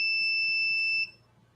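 An auction buzzer at a cutlery collectors' sale gives one steady, shrill electronic tone for about a second, then cuts off, leaving faint room hiss.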